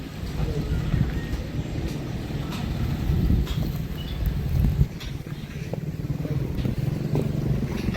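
Motorcycle running on a road trip in Spiti, a steady low rumble under heavy wind noise, moderately loud and continuous, with faint talk in places.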